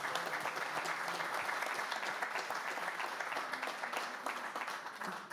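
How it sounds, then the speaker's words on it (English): An audience applauds the keynote speakers at a conference panel on the Great Green Wall and land restoration, with soft, steady, even clapping heard at a distance that tapers slightly at the end. "I would like you to give a very warm applause to our keynote speakers"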